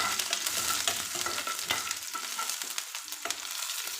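Dried red chillies with onion fry in oil for sambar, making a close, busy sizzle broken by scraping stirs and short crackles that ease slightly toward the end.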